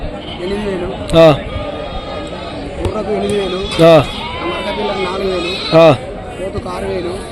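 Three loud, wavering goat bleats ring out a couple of seconds apart at a busy sheep and goat market in Rajarampalli, with murmuring voices and crowd noise filling the gaps.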